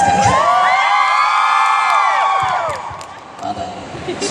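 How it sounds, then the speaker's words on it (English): A comic convention audience screams and cheers continuously, loud and dense, a mass of high shrieks and whoops that swells and then thins slightly toward the end. "So you guys gotta scream."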